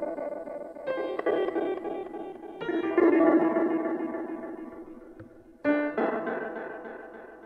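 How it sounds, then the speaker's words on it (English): Piano chords run through a filter delay, each struck chord followed by repeating, echoing tails that swell and decay, with three main attacks spread across the passage and no talk. "and then I put after it a delay, a filter delay"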